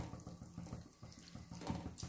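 Water runs steadily from a tap into a pan while arai keerai greens cook with tamarind, a continuous close splashing flow with small bursts, heard alone without talk.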